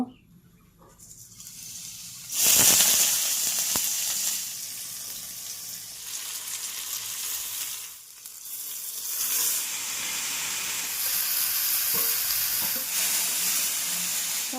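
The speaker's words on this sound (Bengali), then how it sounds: "শাকটা এবার ফোড়ন দিয়ে আমি ভেজে নেব।" Parboiled kolmi greens fry in hot oil with tempering spices, giving a loud, steady sizzle that surges when the greens hit the pan and then holds as a continuous close hiss.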